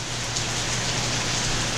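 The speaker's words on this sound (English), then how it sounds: "It starts to rain." Steady rain pours down in a dense, even hiss with a low rumbling background, continuous and fairly loud, with no voices.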